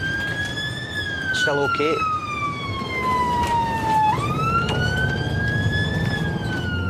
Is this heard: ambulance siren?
yes